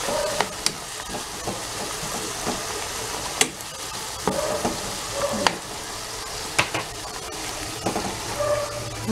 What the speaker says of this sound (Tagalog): nagigisa na ako ng bawang sibuyas, kamatis